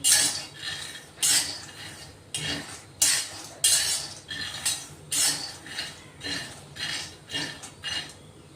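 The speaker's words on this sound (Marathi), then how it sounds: "लोखंडाचं पॅन ठेवलंय आपण, आता शेंगदाणे भाजून घेणार आहेत चांगले खरपूस।" Peanuts roast dry in an iron pan, stirred with a metal utensil that scrapes and clatters in regular sweeping strokes, roughly one every half second to a second, close and clear with no talk.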